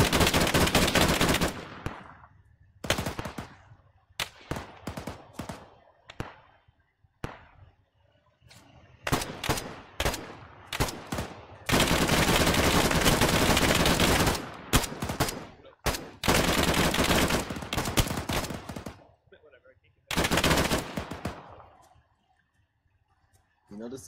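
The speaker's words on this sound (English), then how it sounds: "we're taking direct fire here" Heavy, sustained bursts of automatic gunfire and single shots in the military video game ARMA 3 during a squad operation under direct fire, loud and close, broken by short quiet gaps.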